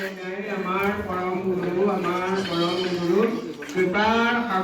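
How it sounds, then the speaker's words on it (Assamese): A goat bleats repeatedly and loudly up close while being fed prasad offerings at a village prayer hall in Assam, its wavering cries coming in several long calls in a row with little pause between them. "ছাগলীক প্ৰসাদ খুৱাই আছে।"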